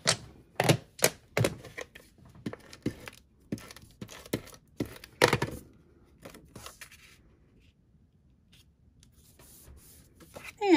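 Card stock pieces for a handmade stamped greeting card being glued and pressed together, heard as a close, uneven run of sharp taps and rustles that are denser at first and then thin out to sparse soft handling noises.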